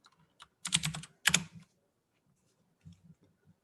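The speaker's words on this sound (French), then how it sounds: "désolé tout le monde pour mon clavier mécanique. Je sais que c'est bruyant" Noisy mechanical computer keyboard typing comes in two quick bursts of sharp, clacking keystrokes, followed by a few scattered lighter taps, close and otherwise quiet.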